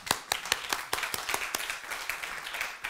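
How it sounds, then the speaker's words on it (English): A church congregation claps hands during a worship service, a steady run of sharp, fairly loud claps with an irregular rhythm filling the whole stretch. "Hey, clap your hands loud."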